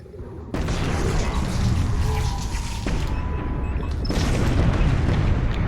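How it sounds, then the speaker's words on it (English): Photon torpedo explosions boom in Star Trek: Bridge Crew, a space combat game, as deep rumbling blasts in heavy succession with a sharp new impact near the end, loud and dense throughout. "Photon torpedoes inbound."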